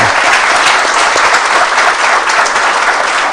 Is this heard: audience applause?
yes